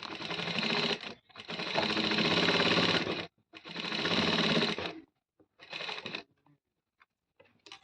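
Trouser pocket being stitched on a sewing machine: three long bursts of rapid, even mechanical stitching separated by short pauses, then a few shorter runs and faint clicks, close and alone.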